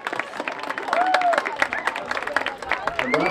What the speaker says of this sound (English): Please have a big round of applause for